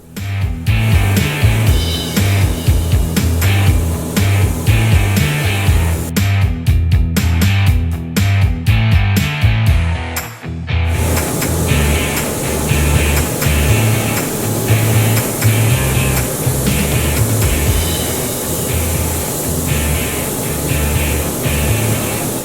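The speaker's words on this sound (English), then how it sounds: "Using a spray gun is great, it gives a really nice fine texture." A loud, steady hiss of an air spray gun applying Raptor Liner bed liner coating to a trailer at about 45 psi, pausing briefly partway before resuming, with a faint mechanical hum underneath.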